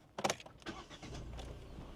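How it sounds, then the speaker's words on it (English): A 2024 Kia Picanto is started by turning the ignition key: a brief jingle and click of the key, then a short crank and the small engine catching into a quiet, steady idle, recorded close and faint. "You twist the key in the ignition to start the car"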